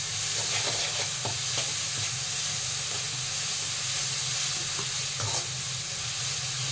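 Ginger and garlic paste sautéing in a hot pan for a prawn pepper masala, a steady loud sizzle and hiss with occasional scraping stirs, close up and continuous.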